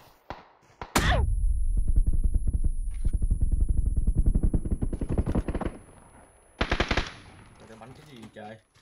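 Rapid automatic gunfire in a shooter game, a loud sustained burst of closely spaced shots lasting several seconds, then a pause and a second shorter burst, with faint talk in the background.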